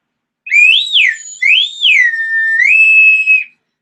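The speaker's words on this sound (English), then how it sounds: "Well, I want to blow my whistle again." A single whistle is blown close and loud, its pitch sliding up and down in two swoops before holding a long steady tone, then stopping abruptly.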